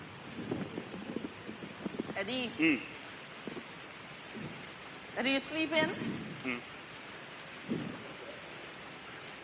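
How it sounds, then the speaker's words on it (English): Heavy rain pours steadily outdoors in a remote spot with no shelter, a constant broadband wash running through the whole stretch, while a person calls out and talks over it in bursts. "There's way too much rain for me to even change in it here."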